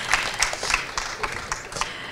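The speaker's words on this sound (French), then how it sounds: "Plein d'applaudissements pour elle" An audience at a live show applauds a presenter, with distinct, uneven claps, a few sharper hand strikes standing out over a softer background patter of clapping.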